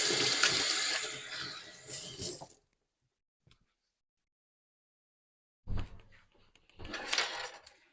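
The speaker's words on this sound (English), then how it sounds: "let me wash my hands before I touch that." Running tap water splashes over hands being washed in a home kitchen, a steady rush for a couple of seconds, then silence, then the water returning in bursts near the end.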